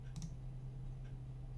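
A couple of quick, faint computer mouse clicks in a quiet radio station room over a low steady hum, logging a song in a playlist.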